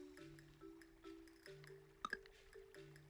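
A watering can waters crops in a cozy farming video game, giving soft repeated dripping and splashing blips over a steady background music tone, with one brighter chime partway through.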